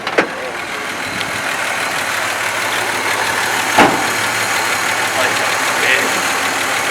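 An old square-body truck engine idles steadily in neutral, a continuous mid-pitched rumble with a couple of sharper transient knocks, while people talk nearby.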